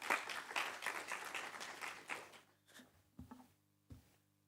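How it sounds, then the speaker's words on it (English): A small audience at a research conference claps as a speaker is invited to the podium. The soft, scattered applause lasts a couple of seconds, then fades into a few isolated thumps and near silence. "Can you give a round of applause?"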